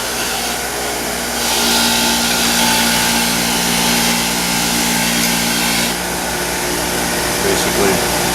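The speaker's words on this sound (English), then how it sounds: "you can come over to your wire wheel here, it's sometimes a little faster" A bench wire wheel spins steadily with a loud, even whirring hiss while it scrubs the threads of a Zipper spinner cap, and the tone rises slightly as the part is pressed against the bristles.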